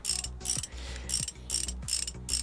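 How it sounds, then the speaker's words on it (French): A ratchet wrench tightens nuts on a motorcycle in Motorcycle Mechanic Simulator 2021, making loud, close, repeated bursts of rapid clicking separated by brief pauses. "Donc là on serre tous les écrous."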